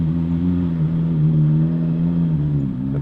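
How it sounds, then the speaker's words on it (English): A Ferrari 458 fitted with an IPE titanium exhaust hums at a low, steady idle-like drone close by, an even rumble with a slight dip near the end and no voices. "we want to hear his new exhaust, his brand new IPE titanium exhaust"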